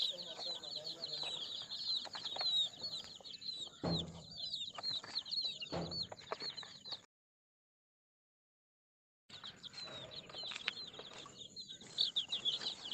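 Hens clucking and scratching at a village poultry sale, with occasional wing flaps and knocks; the sound is fairly faint and cuts out for a couple of seconds midway.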